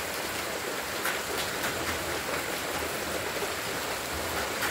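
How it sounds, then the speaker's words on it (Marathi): Continuous splashing of water drops falling into water, a steady rushing patter with occasional sharper drips, fairly close and without speech. "एक थेंब कसा पडतोय दुसऱ्या पाण्यात"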